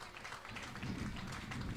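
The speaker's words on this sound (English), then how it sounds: "let's have a round of applause for this year's Community Service Award winner, Al Brinkmeyer." Audience at a college football game applauding a Community Service Award winner, a short burst of scattered clapping from a crowd that thickens after a brief moment, heard at moderate distance.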